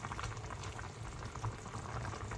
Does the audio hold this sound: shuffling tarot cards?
no